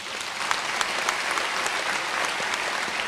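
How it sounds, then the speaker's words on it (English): A hall audience gives a sustained round of applause at a university chancellor's inauguration ceremony, dense and even clapping at moderate distance throughout. "can we give them all a round of applause?"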